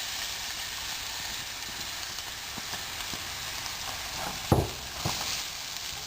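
Finely chopped onion fries in hot oil with a soft, steady sizzle, joined by a sharper clatter partway through.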